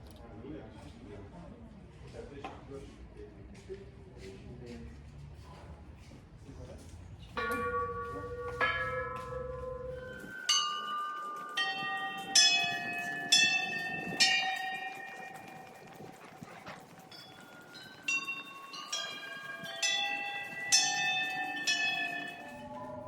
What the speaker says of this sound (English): you can take this piece of wood and ring the bells